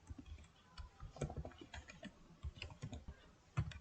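Quick irregular clicks of keys on a computer keyboard as an email address is entered, close but fairly quiet, with short pauses between bursts and a few sharper taps.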